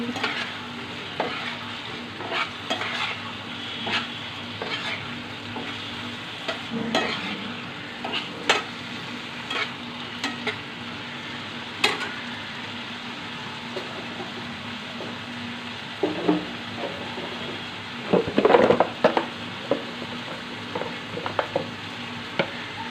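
Steady frying sizzle of eggplant and egg in a pan with occasional scraping and stirring clinks, close and continuous, no voices.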